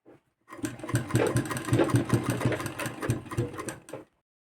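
A sewing machine stitches the neckline binding of a cotton nightie in one sustained run of several seconds, a close, loud, even mechanical whir with rapid needle thumps that stops abruptly.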